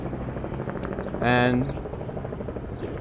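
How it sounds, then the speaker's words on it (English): Small tour helicopter flying overhead near Toronto's harbourfront, a steady pulsing rotor chop continuing throughout behind a brief swell of talk and crowd noise. "It's a smaller chopper."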